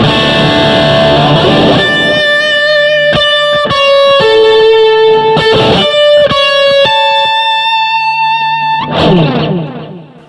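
Clean electric guitar through a BOSS GT-1 with reverb and delay, notes and chords ringing out one after another and trailing into long, shimmering tails, loud and alone with no talk.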